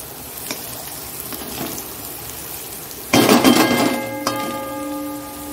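Potatoes and bitter gourd frying in a pan at home, heard as a quiet background sizzle that turns into a louder burst of clattering and scraping as the food is stirred and lifted from the pan. No one speaks.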